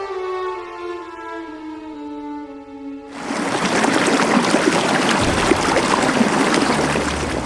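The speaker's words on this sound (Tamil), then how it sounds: "ஆர்ப்பரிக்கும் அருவியின் சத்தம் என் மனதை வருடுகிறது" A roaring waterfall on a mountainside bursts in suddenly as a loud, dense rush of water. Before it, a sustained tonal drone with stepped harmonics fills the opening seconds.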